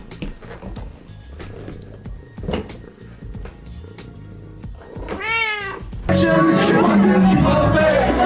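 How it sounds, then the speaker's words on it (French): Romy, a pet cat, lets out a rising meow amid household clatter and knocks, followed by a louder stretch of busy noise, with voices nearby. "Je présente Romy, c'est le chat de Manon."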